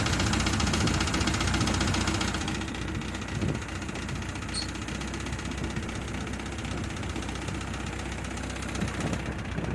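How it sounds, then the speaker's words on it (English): A tractor engine runs close and loud with a rough, knocking chug. The tone drops and settles into a steady idle after a couple of seconds, and no one speaks. "Little throttle, little choke, and this will start right up."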